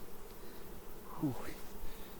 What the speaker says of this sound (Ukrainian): дивіться, агресивна бджола